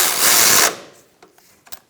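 A ratchet tool spins a bolt down during alternator work on a 2005–2010 Chrysler 300 5.7L V8, first in a short loud burst of rapid clicking, then a few faint scattered clicks and taps.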